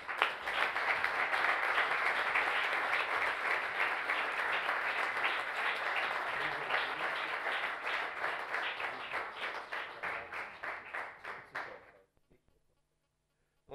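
Sustained applause fills a regional council assembly chamber for about twelve seconds, a dense crowd clapping that grows more rhythmic before stopping abruptly into near silence.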